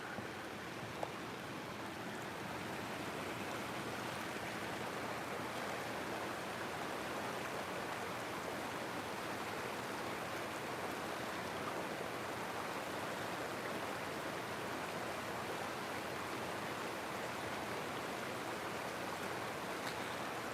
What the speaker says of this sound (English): That is a whole bunch of water.